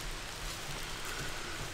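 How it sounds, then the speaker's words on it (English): Rain falls steadily on a New York yard and on an umbrella overhead, a dense close hiss of drops with no talking. "It's raining."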